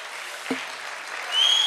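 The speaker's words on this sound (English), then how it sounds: "A big round of applause to Neha" A conference audience applauds, a steady wash of distant clapping with a single sharp knock partway through, growing slightly louder near the end.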